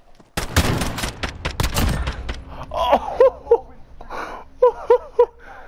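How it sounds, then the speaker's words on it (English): Rapid pistol gunfire in Modern Warfare, a dense burst of loud shots up front, then scattered quieter game effects and voice-like gasps and whimpers in a 2v2 match. "I killed you with the pistol."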